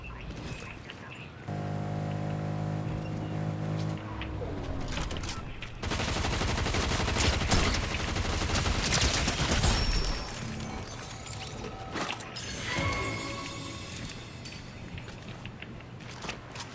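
Assault rifle gunfire in Fortnite, bursts of rapid shots and sustained volleys with clattering impacts, loud and close, mixed with other game sounds and music tones.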